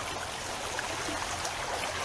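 Creek water runs steadily at a rubbish-dump digging site for vintage bottles, a continuous close broadband rush and trickle with no talk throughout.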